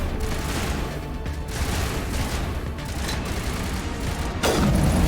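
Sniper rifle gunfire in the video game Mass Effect Legendary, a loud sharp shot near the end rising over a dense, steady bed of battle noise and machinery.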